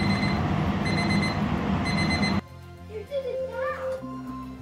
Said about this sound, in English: that timer is about to go off